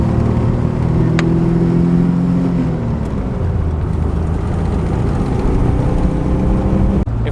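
A 1986 Nissan 300ZX Z31 drives along on a test run, its engine note steady and loud with a low rumble and a shift in pitch partway through, road and wind noise filling the background.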